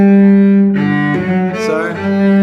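A cello plays a slow melody of sustained, resonant notes, close and fairly loud, with no voices.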